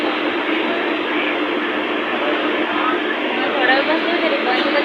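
A train pulls into Panvel railway station. A loud, steady mechanical rumble and roar runs throughout, with faint crowd chatter mixed in.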